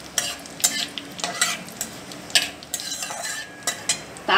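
Whole cumin seeds and a bay leaf fry in oil in a wok while being stirred, giving a steady sizzle broken by clinks and scrapes of a spatula against the metal.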